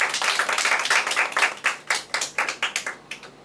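A small group clapping, dense at first then thinning into a few distinct, evenly spaced claps that fade out; nearby, no voices.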